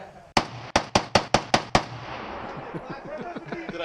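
Seven sharp, loud gunshots ring out in a quick, even string at an outdoor shooting range, each followed by a short echo, then a muffled voice and rustling take over.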